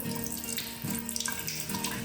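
A tap in a tiny home runs during a hot-water check, with uneven pressure noted on one side, giving a steady, close hiss and splash of water pouring into a sink, with no talking.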